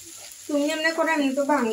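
Chow mein frying in a pan makes a soft, continuous sizzle close by, mostly under a person talking throughout.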